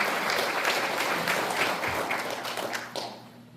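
Sustained applause from an assembled audience at a Korean commemoration ceremony for the 106th anniversary of the Provisional Government, with dense steady clapping that thins and fades toward the end.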